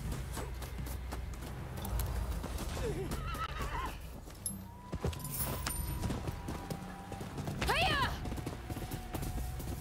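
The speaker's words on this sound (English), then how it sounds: "we're taking the horses" Horses in the video game Rise of the Ronin neigh and whinny amid steady clip-clop hoofbeats, with a louder whinny near the end over a busy game soundscape and a voice talking.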